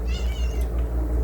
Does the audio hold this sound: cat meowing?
yes